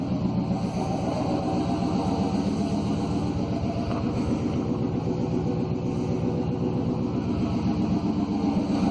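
Unmuffled 5.7-liter V8 in a 1991 Chevy 1500 idling steadily up close, a loud, continuous throbbing rumble with a fast, even pulse that holds without letup from start to finish.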